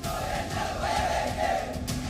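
Large funeral crowd in Dakshina Kannada, Karnataka chanting slogans, a dense roar of many voices, loud and continuous with rhythmic swells, heard at a distance.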